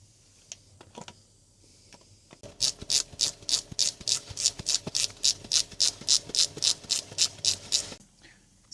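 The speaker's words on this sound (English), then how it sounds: "I've been around and cracked off all the bolts with a ratchet" A hand ratchet loosening sump bolts on a Mini Cooper S, a rapid run of close, crisp clicks in a steady rhythm lasting several seconds, with a few isolated clicks before and after.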